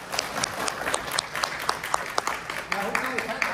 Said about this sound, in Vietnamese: thế thì phải vỗ tay thêm đi